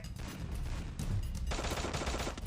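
Loud, close gunfire in the battle-royale shooter Free Fire, sustained rapid automatic bursts that thicken after a moment and carry on without pause.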